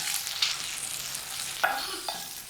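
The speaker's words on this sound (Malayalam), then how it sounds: "നമുക്കൊന്ന് ഇടയ്ക്ക് ഇളക്കിയിട്ട് കൊടുക്കാം" Okra cooking in a pan gets stirred with a few distinct scrapes against a faint, steady sizzle, quiet and close.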